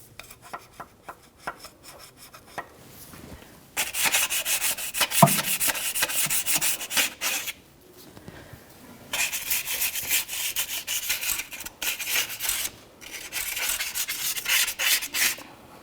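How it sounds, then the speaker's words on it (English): Emery cloth is rubbed by hand over the metal surface of an oil pan from a 1997-2006 Jeep Wrangler 2.4L four-cylinder, making close, loud, raspy scraping in several sustained bursts with short pauses between them. "Probably take some memory cloth, sandpaper to it, and really get it cleaned up."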